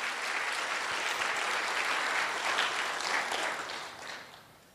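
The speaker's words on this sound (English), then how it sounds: "So can we give a big round of applause for all the volunteers here today?" An audience at an event claps for the volunteers, dense steady applause that holds for several seconds before tapering off near the end.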